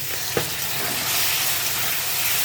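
A spice paste of chilli, turmeric and salt with a splash of water sizzles steadily in a pan, a loud continuous hiss with one soft knock near the start.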